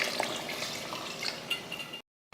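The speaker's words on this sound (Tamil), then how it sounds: "இப்போ தண்ணி சேர்த்துக்கலாம்." Water poured into a pan of chicken masala curry, giving a steady close splashing rush for about two seconds before cutting to silence, with no talk.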